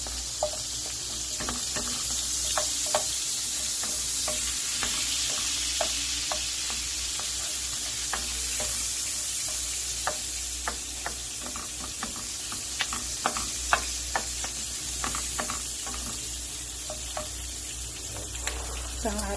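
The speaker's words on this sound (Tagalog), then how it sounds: "Gigisa po natin sa butter ang ating" Onions sizzle steadily in butter for chop suey, a continuous close frying hiss broken by frequent small pops and crackles, occasional stirring, no talk over it.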